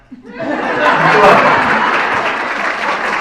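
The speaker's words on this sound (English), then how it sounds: "Round of applause." Applause and laughter from a conference audience at a leadership event, swelling quickly into loud, sustained clapping mixed with chuckles and chatter.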